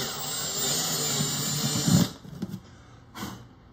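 Electric drill bit boring through the wooden body of a Taylor Academy A12 acoustic guitar: a steady, loud high-pitched whine for about two seconds, then it cuts off, followed by a few short bursts.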